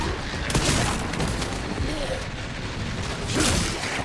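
A grenade blast in Resident Evil Requiem, heavy booming rumble with dull thuds around the half-second and three-and-a-half-second marks over continuous loud noise, with talk mixed in.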